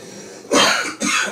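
Two harsh coughs close to the mic, one at a time with a brief pause between, loud and dry, with no talking.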